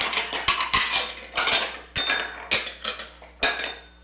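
Small ceramic monkey dish bowls clinking and clattering together, a series of sharp close clinks and knocks in an irregular rhythm, some ringing briefly, with no talking.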